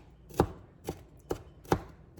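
Small garden jalapenos are chopped into fine pieces on a cutting board, with four distinct knife thuds at a slow, fairly steady pace, close and clear with nothing else heard.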